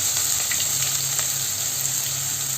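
Chopped onions hit hot coconut oil in a kadai, producing a dense, steady hiss of frying that stays loud and even throughout, with faint stirring taps beneath.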